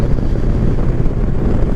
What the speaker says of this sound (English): it doesn't eliminate the wind, of course